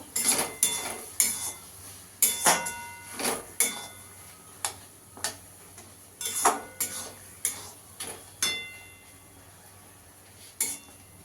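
A spoon scrapes and clinks against a pan as a mixture of kochu (taro) leaves and prawns with sugar is stirred, in a dozen or so irregular taps and scrapes over quiet background hiss.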